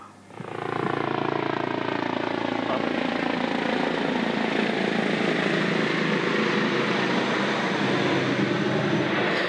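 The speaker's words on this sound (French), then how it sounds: "il y a l'hélicoptère de la gendarmerie qui passe, comme assez souvent" A gendarmerie helicopter flies overhead, its rotor roar rising quickly and holding as a loud, steady drone throughout.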